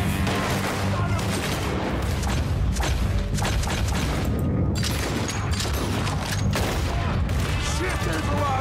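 Rapid gunfire from Deadeye slow-motion shooting in Red Dead Redemption 2 fills the scene, a dense run of loud cracking shots and booms with a brief lull near the middle, some talk faint underneath.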